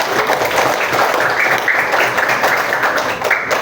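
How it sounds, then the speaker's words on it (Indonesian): Pupils in a primary school maths classroom clap for a classmate, a dense, steady burst of children's applause close by, with young voices mixed in throughout. "Tepuk tangan buat Denisa"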